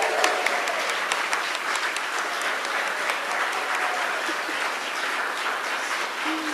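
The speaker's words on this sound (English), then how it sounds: "Let's all give him a round of applause." Sustained applause from a crowd, dense even clapping throughout with no break, moderately loud.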